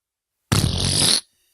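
A person imitates a fart noise with their mouth: one sustained, buzzy, raspy blurt of about three quarters of a second that starts abruptly and cuts off sharply, loud and close, with no talking over it.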